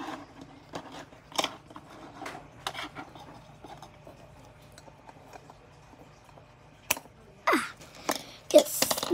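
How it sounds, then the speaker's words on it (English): Scissors snip through wire while making a necklace, giving a few sharp, separate metallic clicks spread across a quiet stretch, with soft handling rustles between them. "Just snip it right off just like that."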